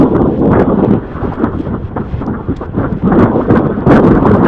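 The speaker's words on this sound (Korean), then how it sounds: "바람이 많이 부는구만." Strong wind gusts buffet the microphone outdoors on Ganghwa Island ahead of a rainstorm, giving a loud, continuous roaring rumble with rising and falling gusts throughout.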